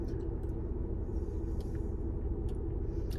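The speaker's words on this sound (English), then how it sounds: "Also, why is my car making that kind of noise?" A car sits idling while making an unusual engine noise, giving a steady low rumble that is continuous and moderately loud, with faint higher clicks scattered over it and no talk.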